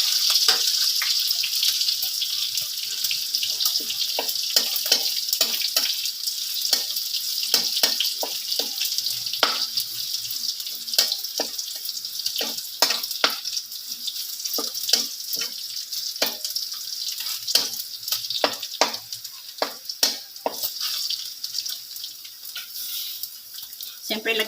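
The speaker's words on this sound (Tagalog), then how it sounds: "Ako'y magigisa na siya." Garlic sautéing in a pan, a bright hissing sizzle broken by frequent sharp crackles and stirring clatter, close and steady, with no talk over it.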